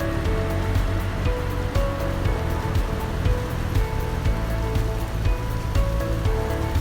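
Gambas sautéing in a pan, a steady, dense sizzle and crackle that fills the whole stretch at constant loudness with no voices.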